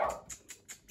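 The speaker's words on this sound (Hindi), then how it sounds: "मेरे कुत्ते वैसे भी चुप नहीं हो रहा कि मैं कुछ व्लॉग करूं" A dog nearby gives a quick run of sharp, clipped barks, about four in under a second, loud at first and then fading slightly.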